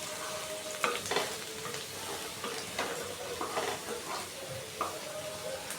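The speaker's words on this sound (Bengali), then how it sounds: "আলুগুলোকে লাল করে ভেজে নিব।" Potatoes sizzle steadily in a pan for a Bengali aloo posto, with intermittent stirring scrapes and clinks of a utensil against the metal cutting through the continuous frying hiss.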